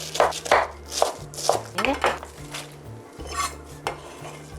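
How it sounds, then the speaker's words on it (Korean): A knife chops cabbage into 1 cm slices on a board, giving a quick series of crisp, close knocks in an irregular rhythm; a voice briefly speaks. "이렇게 지금 양배추를 썰었잖아요."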